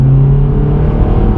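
A BMW 1 Series pulls hard along a dual carriageway, its engine note a loud steady rising drone heard from inside the car, with no talk over it.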